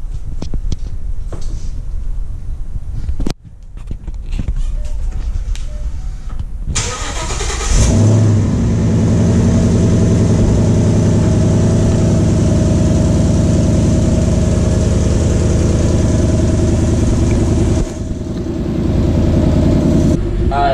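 A cammed 2V Ford Mustang GT, a 1999-2004 car that was wrecked and repaired, cranks and fires up after a few loud knocks, then settles into a loud, lumpy, rumbling idle with small revs, close to the engine.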